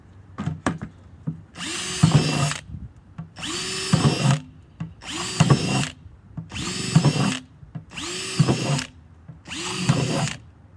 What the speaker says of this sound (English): I have a 1/2-inch drill bit, which I'm going to drill a lot of holes in the bottom of this